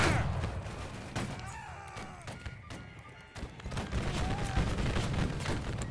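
In a Civil War video game, an infantry line fires ragged musket volleys, a crackling spread of gunshots and thumps rolling over a noisy battlefield with distant rumbling and faint shouts.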